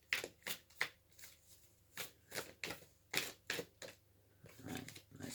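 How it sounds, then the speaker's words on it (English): Tarot cards being shuffled by hand in repeated riffling bursts, crisp and close, with short pauses between each pass and no talking. "let's just shuffle"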